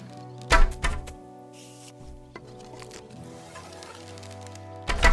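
Arrows striking an archery target in Kingdom Come Deliverance 2, heard as a sharp thunk near the start, a softer hit around the middle and another firm impact at the end, over a steady ambient game backdrop with no talk.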